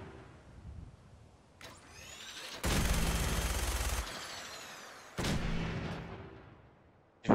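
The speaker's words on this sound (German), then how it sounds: "Ich habe gerade schon fast 100 Schuss verballert." Heavy automatic gunfire in the Fallout VR video game, with several long, loud sustained bursts of rapid shots separated by quieter stretches, ending in a sharp final blast, with no voices.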